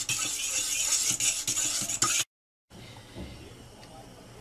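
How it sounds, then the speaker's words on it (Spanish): A utensil stirs a flour mixture into egg in a bowl for crema catalana, a close, steady scraping swirl that stops abruptly, then a quieter stretch with faint clinks. "Y entonces lo vamos a mover todo bien, todo bien mezclado."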